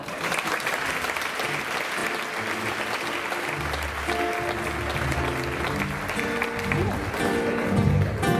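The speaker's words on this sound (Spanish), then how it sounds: "Así que damos un fuerte aplauso" Concert audience applause for a young singer's performance at a talent show, sustained dense clapping throughout, with lingering music tones and some crowd voices mixed underneath.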